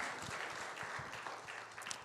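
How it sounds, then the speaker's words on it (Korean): A church congregation gives a round of applause during a Wednesday worship service, a brief, steady patter of many hands heard at low level through the room, with faint voices beneath. "그렇게 하실 주님께 영광의 박수 드리도록 하겠습니다"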